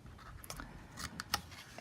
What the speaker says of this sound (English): you take your scissors and you are just going to snip on these short score lines here